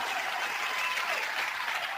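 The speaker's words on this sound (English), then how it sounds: "A round of applause was the answer to that question." A crowd answers a rallying call with a round of applause, a thick, even wash of many hands clapping that holds steady for two seconds.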